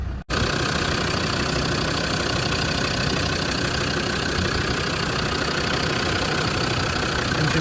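A 2003 Land Rover Defender 90 TD5 diesel idles steadily after a brief start, its engine ticking over evenly with a constant close rumble and no voices over it.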